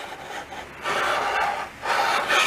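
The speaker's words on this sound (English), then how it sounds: "Don't let the file, in dragging the file backwards, I'm not hurting it." A metal file is dragged back and forth across a metal piece to flatten it, giving rough, rasping strokes in two clear surges, close and loud.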